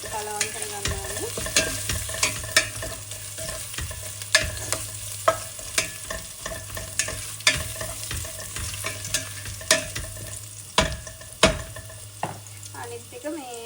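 A spoon stirs cinnamon bark and bay leaves in hot oil for beef curry, making a steady low sizzle. Regular, distinct scraping knocks against the pan repeat roughly every second, up close.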